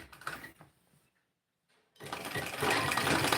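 A sewing machine stitches suit fabric in two quick bursts of close, rattling whirr separated by a brief silent pause, the second run louder.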